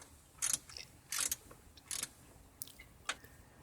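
Socket wrench loosening bolts near the carburetor on a 2009 John Deere 100 Series 19.5 HP mower, several short ratcheting bursts, faint and close, with quieter clicks between and no talking.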